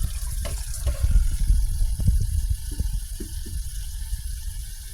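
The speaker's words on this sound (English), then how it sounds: "we're going to put our fermentation vessel in here and get a little bit of water" Tap water running into a fermentation vessel for making blueberry peppermint mead, a steady rushing pour with a low rumble underneath, continuous and fairly close, with no talking.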